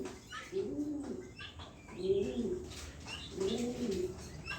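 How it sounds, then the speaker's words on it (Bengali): A pair of racing pigeons coos in three soft, rolling bursts, close by and clear, with faint chirps and background noise between calls. "এই দেখেন দুইটা কবুতর জটিল এক পেয়ার কবুতর"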